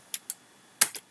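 A few sharp computer keyboard keystrokes, two light taps followed by a firmer key press and one more tap, close and fairly quiet with no talking.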